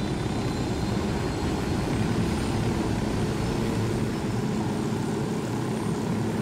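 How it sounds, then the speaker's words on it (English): A helicopter flying in the video game Ghost Recon Wildlands gives a steady, loud, close rotor and engine drone without a break. "Yes, helicopters go up and down. And forward and backwards."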